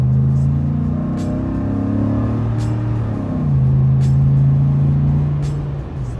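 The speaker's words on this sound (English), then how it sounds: "from that V8, I get that beautiful exhaust note" A V8 truck engine's exhaust note rumbles steadily and loudly from inside the cab, with low droning tones that shift as the engine note rises and settles, plus a few brief ticking sounds.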